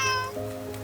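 A small lost kitten out in cold rain meows, one short high meow with a falling pitch, close and clear over a quiet background.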